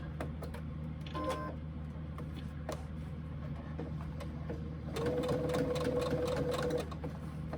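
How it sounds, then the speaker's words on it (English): A sewing machine stitches a quarter-inch seam on pleated fabric, a low steady hum under a run of rapid stitching that grows louder and brighter in the last couple of seconds before easing off. "And keep stitching to the other fold."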